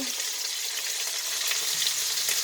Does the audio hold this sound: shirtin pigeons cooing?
no